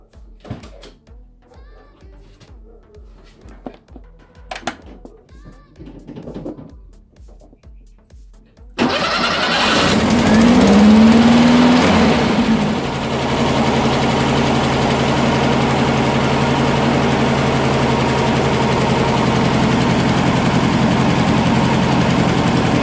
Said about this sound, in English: Let me turn on the vehicle.